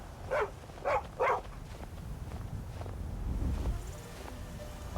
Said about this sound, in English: Oh, it's a dog.